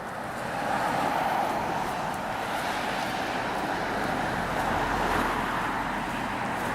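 Steady road traffic on a street in Burbank, a continuous broad rumble of passing cars heard from the roadside while walking, with some wind noise on the microphone throughout.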